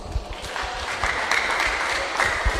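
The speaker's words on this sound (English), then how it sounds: "Please give them our applause." Applause from a school audience after a lower-secondary student presentation, steady clapping from a roomful of people lasting a few seconds with no talk over it.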